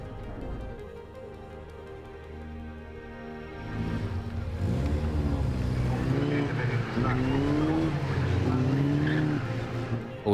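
Race cars battle on track in a racing weekend, with engine roars rising and falling as cars pass and shift, loud and sustained, a steady drone first and then revving passes with a voice faintly under it.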